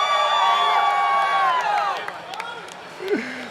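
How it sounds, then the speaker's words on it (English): A crowd at an East vs West esports showmatch cheers and screams loudly, the shrill voices sustained and then tapering off, with a lone whoop rising near the end. "let me hear some screams for the Bay Life."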